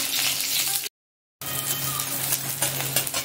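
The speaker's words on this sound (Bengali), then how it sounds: "এবার দিয়ে দিচ্ছি তেল, এবার দিব পেঁয়াজ, একটু পেঁয়াজ কুচানো দিয়ে দিলাম।" Chopped onion hits hot oil in a karai on the stove and sizzles loudly and steadily up close, the bright frying hiss interrupted by one brief silent gap.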